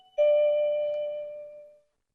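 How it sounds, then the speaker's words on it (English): A doorbell sounds a single clear electronic chime that rings out and fades over about a second and a half, alone in a quiet room. "That's our doorbell?"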